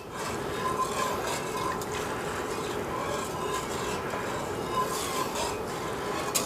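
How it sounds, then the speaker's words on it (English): Chicken broth poured into a pot while making loaded potato soup, a steady splashing, rushing liquid fill that runs continuously throughout at moderate level, close by. "we're going to add our 3 cups of chicken broth. That we can pour right in."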